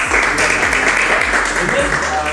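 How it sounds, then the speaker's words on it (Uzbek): An audience claps steadily and densely for a student's classroom presentation, with the applause sustained and fairly loud throughout the short stretch. "Roziya, keling, qarsaklar chalib qo'yamiz."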